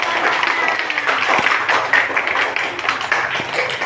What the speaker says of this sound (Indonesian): beri tepuk tangan yang meriah untuk kelompok 1